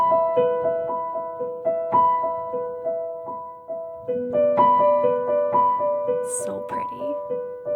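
A piano plays a repeating arpeggio pattern, notes plucked out in an even rolling rhythm that shifts to a new chord midway, close and clear with no talking.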